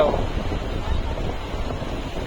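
Steady wind buffeting the microphone at a beach in Puri, a continuous low rumble with a faint wash of surf beneath it.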